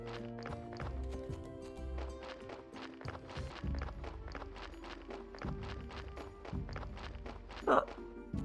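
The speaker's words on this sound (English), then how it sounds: "That's the donkey, and he just dropped off another corpse." Hooves clip-clop in a steady walking rhythm as a donkey plods along in the video game Graveyard Keeper, close and clear with game music underneath and a speaking voice at times.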